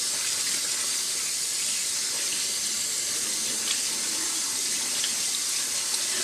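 Cold tap water runs steadily over rice being rinsed in a fine mesh strainer, a continuous bright splashing hiss with no pauses and no voices.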